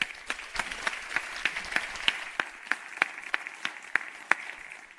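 Applause at a ventures showcase event, with rhythmic individual claps standing out over a thinner crowd patter, evenly spaced and fairly close, continuing without speech.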